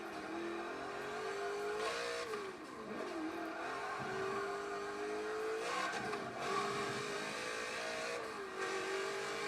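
A Subaru Legacy engine races in the video game Forza 7, a continuous engine drone that climbs and drops with gear changes, pitch dips and brief tire noise, steady and close throughout with no talk.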